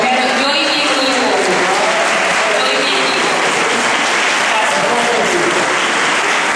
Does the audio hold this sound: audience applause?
yes